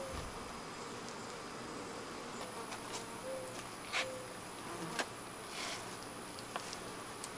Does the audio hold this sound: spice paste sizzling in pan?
no